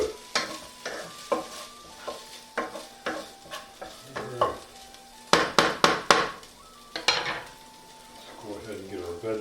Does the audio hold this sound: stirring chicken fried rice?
yes